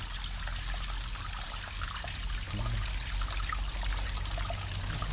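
Water trickles down from a hill in a steady, continuous outdoor flow, with a light dribbling wash throughout and no voices.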